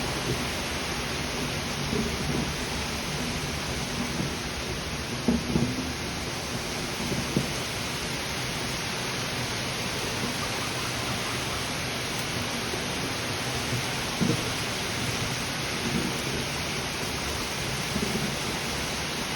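Heavy rain pours steadily in a rainstorm with thunder in a garden of hoya plants, a dense, loud, continuous roar of drops with occasional faint low rumbles and drips.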